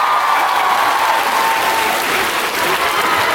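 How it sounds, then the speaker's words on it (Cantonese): An audience at a Hong Kong fan meeting applauds in a loud, sustained burst of dense clapping that fills the hall evenly from start to finish. "大家要俾多啲掌聲佢。"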